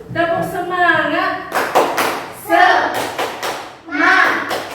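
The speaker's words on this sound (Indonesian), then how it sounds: "kita tepuk semangat dulu. Tepuk semangat." Children in a classroom do a rhythmic clapping chant, sharp group claps alternating with chanted voices, loud and close.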